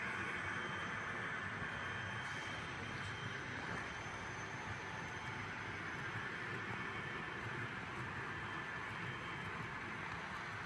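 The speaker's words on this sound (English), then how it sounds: "It's a good thing this is a short train" A short train rolling past outdoors on a rail branch line, a steady low rumble of wheels and cars, constant and moderately distant, with no talking.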